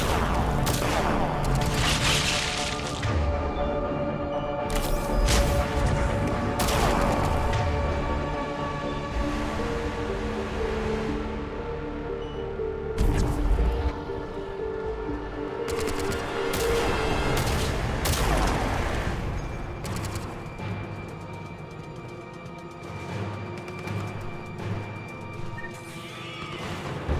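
Dense, sustained video game gunfire from Reaper Madness, with rapid volleys, bursts and booming impacts filling the whole stretch and barely letting up, layered with other in-game crashes and effects.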